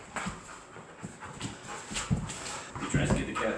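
A puppy pants and whimpers up close, short breathy bursts and soft whines scattered through the stretch, with shuffling movement and no clear talk.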